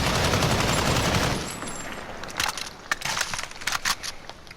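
RPK light machine gun in Modern Warfare fired from the hip in one long sustained burst for about a second and a half, loud and dense, followed by scattered rattles and clicks.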